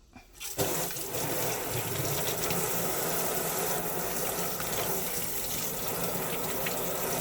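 Tap water runs in a steady, close stream over the roots of an anthurium crystallinum plant being washed. The flow starts abruptly after a brief quiet moment and continues unbroken.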